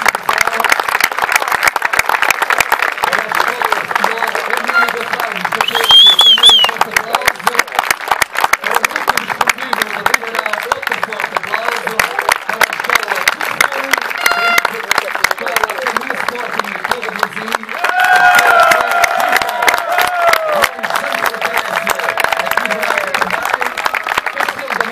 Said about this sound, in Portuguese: Eu pedia uma salva de palmas para a Academia Sporting de Barcelos